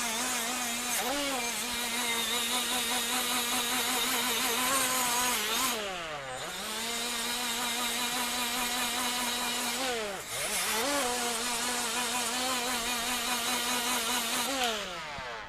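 A 3M Roloc bristle disc spinning on a power tool scrubs rust off steel, a loud continuous whine that briefly dips and recovers twice as the tool's pressure on the metal changes.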